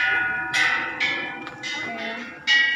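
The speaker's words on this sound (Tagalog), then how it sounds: "Magkabilaan po ito may bell." Bells ring at a Buddhist temple in Thailand, struck several times in irregular succession, each bright metallic strike ringing on and overlapping the next, fairly close and clear with no talk.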